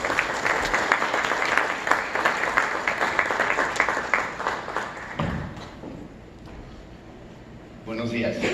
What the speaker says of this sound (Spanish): Recibamos al arquitecto Óscar Eduardo Martínez Garza con un fuerte aplauso